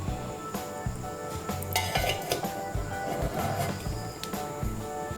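A metal tiffin box lid is shut while cooking steamed egg, giving a few sharp clinks and clatters over a continuous hum and busy kitchen noise.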